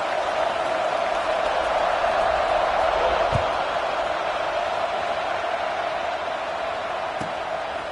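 A stadium crowd at a Boise State versus UCLA college football game cheers steadily just before a kickoff, a broad, loud roar that holds for several seconds with a faint thud near the middle.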